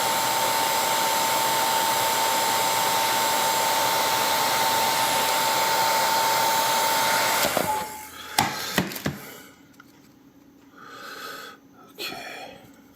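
A heat gun blows steadily with a loud, constant whooshing roar and a faint tonal whine, then switches off abruptly, followed by a few clicks and handling noises.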